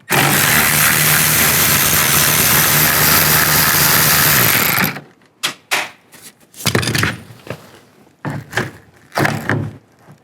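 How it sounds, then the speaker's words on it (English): A 10mm socket removes the three nuts holding the sideview mirror on a 2008-2013 Nissan Rogue. A loud, steady rush of noise comes first, then sharp ratcheting clicks and metallic taps in short, irregular bursts, close by. "Now we can take these 3 nuts off, use a 10mm socket."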